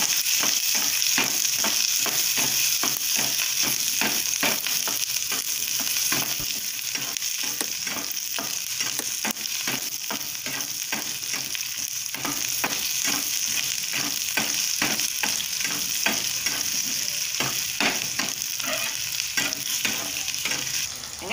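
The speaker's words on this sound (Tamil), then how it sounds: "சிறிதளவு எண்ணெய் சேர்த்துக்கோங்க. நல்லா வதக்கி எடுத்துக்கலாம்." Pigeon meat sizzles and fries in a little oil in a hot pan while a utensil stirs and scrapes repeatedly, a steady crackling hiss throughout.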